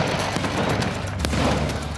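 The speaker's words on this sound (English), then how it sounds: "The bottle is made of thick, toughened glass, so when the explosion does happen, it's enough to rip the microwave apart." A thick, toughened-glass champagne bottle bursts inside a microwave oven: a loud, dense crackling roar of blasts with one sharp crack partway through, sustained throughout with no talking.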